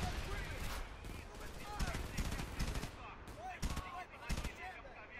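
Gunfire from the video game Frontlines: Fuel of War comes as rapid automatic bursts and single loud cracks over a constant battlefield rumble, with the shots repeating irregularly throughout.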